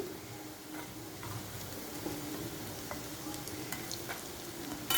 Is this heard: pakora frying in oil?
yes